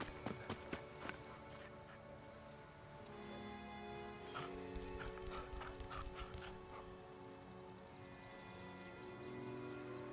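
A dog unit in the strategy game Crown Wars: The Black Prince, heard as scattered barks and panting mixed with footstep-like thuds and clattering game effects over a steady background.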